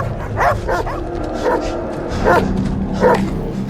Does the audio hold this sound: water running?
no